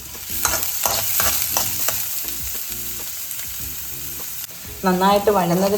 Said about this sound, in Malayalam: ഈ കടുക് പൊട്ടിയിട്ടുണ്ട്. അതിലേക്ക് സവോളയും പച്ചമുളകും ഇടുവാണ്.